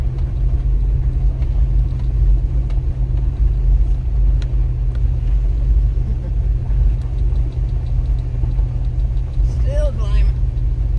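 A 4-wheel-drive vehicle on worn tires grinds up a steep, freshly graveled hill with a canoe aboard, its engine a heavy, steady low rumble throughout, and voices briefly talking over it.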